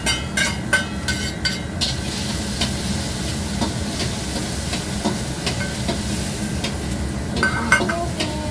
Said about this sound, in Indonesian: Kita tumis bawang putihnya dulu ya.